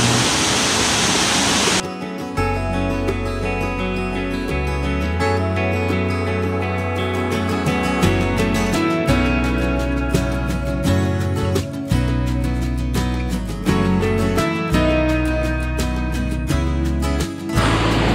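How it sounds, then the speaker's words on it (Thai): A waterfall at a cave site in Ubon Ratchathani, Thailand, seen from its base, giving a steady broadband rush, though it is largely buried under loud continuous music with a heavy beat. "เดี๋ยวผมให้ทุกคนมาดูบรรยากาศด้านล่างของน้ำตกนะครับ"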